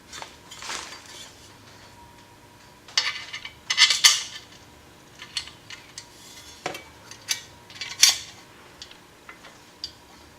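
Small metal washers and parts clink and tap against each other and a hard surface during repair work on a Honda CRF 250L motorcycle, in scattered close bursts with quieter handling between.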